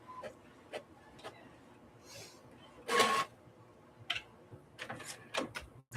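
A printer works in a quiet room, giving scattered clicks, mechanical ticks and one brief louder whirring burst as the paper feeds, with soft rustles in between.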